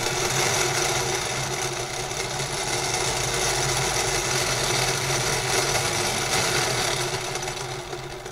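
Electric motor of a homemade dynamo coil-winding machine spinning fast, a steady whirring hum at constant speed, fairly loud and close, with no voices.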